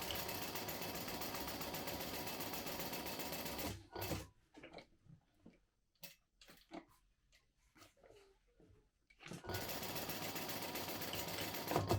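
Sewing machine stitching around three edges of fabric. Steady continuous whirring runs at the start, stops for a stretch of quiet handling noises, then resumes at full speed.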